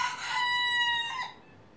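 A pet rooster crows once, close and loud, a single drawn-out harmonic call lasting about a second that fades at the end, with no talking.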